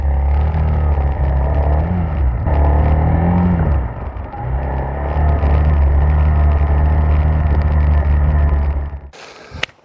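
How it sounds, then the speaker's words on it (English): Engine of a BMW E46 recovered from a police auction, running again after five years off the road, drones loudly as the car drives, rising and falling with throttle changes before cutting off abruptly near the end. "It drives, it starts, the engine is running"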